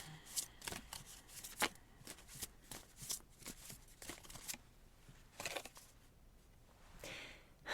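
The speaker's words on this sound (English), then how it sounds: "So let's shuffle these cards." Soft, close card shuffling with a series of quick flicks and riffles, fairly quiet, ending with a brief fluttering burst.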